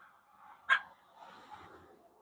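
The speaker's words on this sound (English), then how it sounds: "And that's Dolly barking back over there." A single faint dog bark sounds at a distance, followed by soft whimpering or breathing noises in an otherwise quiet room.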